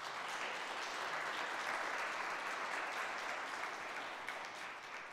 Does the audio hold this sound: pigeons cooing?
no